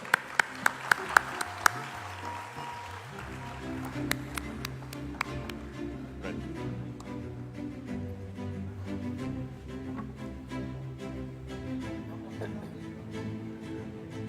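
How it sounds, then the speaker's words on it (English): Applause rises from the audience at a film festival opening ceremony, a few sharp, distinct claps at first, then a sustained, moderately faint clapping under playing music. "Round of applause"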